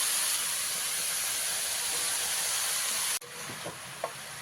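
Cabbage fries in a hot pan for a Bengali vegetarian cabbage chorchori, giving a loud, steady, close sizzling hiss that drops abruptly to a softer sizzle with a few light clinks.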